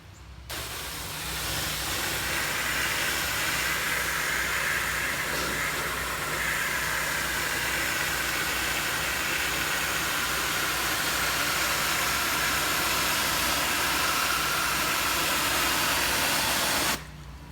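Pressure washer blasting debris off house gutters, a loud, continuous hissing spray that starts abruptly, holds steady for about fifteen seconds, then cuts off.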